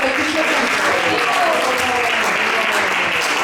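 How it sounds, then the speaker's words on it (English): Steady, dense applause from an audience at an ISKCON gathering in Burlington, Canada, filling the room loudly and evenly for several seconds. "So round of applause for all the Krishna."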